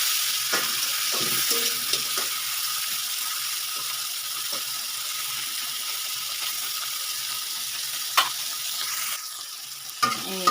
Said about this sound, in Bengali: আমি এখানে ঢেলে দিচ্ছি চিংড়ি মাছগুলো